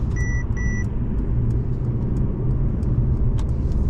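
A Mercedes C-Class accelerating on a mountain road in Spain to overtake, a steady close engine and road rumble filling the cabin, with two brief electronic beeps at the start.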